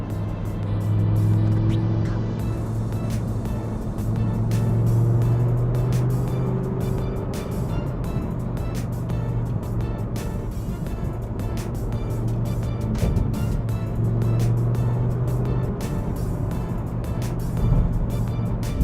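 An Audi R8 V10 cruises over the Harbour Bridge with a steady, low engine hum and road rumble throughout, the tone swelling slightly at times, plus faint ticking and wind noise from the cabin.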